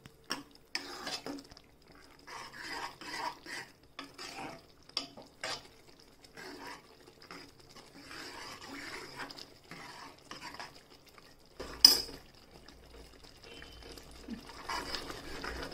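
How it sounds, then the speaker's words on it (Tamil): A spoon stirs vermicelli and sago payasam in a metal pot, with faint scraping and clinking strokes in an irregular rhythm and one sharper knock near the end. "சேமியை போட்டு நல்லா கலக்கி விட்டுக்கலாம்."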